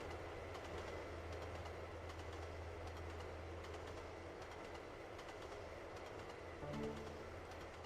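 Electric train running in Trainz Simulator 2 on a mainline, heard as a steady, continuous low rumble with faint clickety-clack from the cab, a brief higher tonal hum near the end, no talk.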